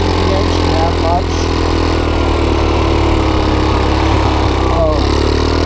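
A 150cc GY6-powered ATV engine runs steadily at moderate speed, a loud continuous drone with a low rumble and slight pitch shifts, up close, with a voice talking over it.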